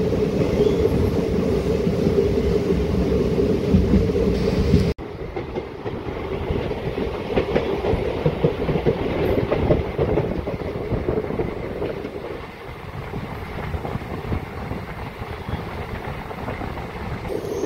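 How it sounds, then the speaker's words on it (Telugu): A DEMU local train runs on its tracks with a loud, continuous rumble and rhythmic clickety-clack, which shifts in tone after a sharp change about five seconds in and then keeps rolling steadily. "ఇదిగోండి మన ట్రైన్ యొక్క స్పీడ్ చూడండి"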